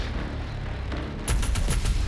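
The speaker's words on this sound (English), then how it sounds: "Also, we are now officially firing an auto cannon." An auto cannon in Doom Eternal kicks in after a steady rumble, firing a rapid, loud burst of heavy thumping rounds with a sharp metallic edge.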